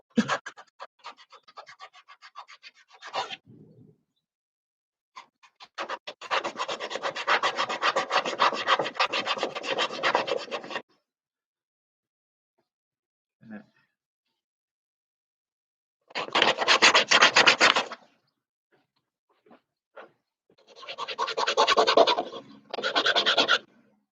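Hand sanding of a homemade wooden handle for a sliding door, heard as bursts of dry, raspy rubbing in several long and short spells separated by quiet pauses, close and fairly loud, with no talking.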